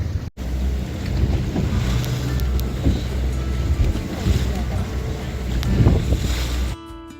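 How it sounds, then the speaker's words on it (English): Ocean waves surging and breaking against a massive grounded iceberg about 100 feet tall, a steady low rushing wash with rolling swells and heavy wind buffeting the microphone, no voices. "The waves crashing on this massive ice formation would eventually take its toll."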